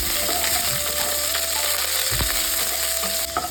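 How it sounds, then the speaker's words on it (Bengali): Cauliflower pieces fry in hot oil for a veg dal, a steady dense sizzle running throughout with a few scraping stirs and clinks, close and fairly loud, no voices. "তো প্রথমে আমি কপিটাকে ভালো করে ভেজে নেব"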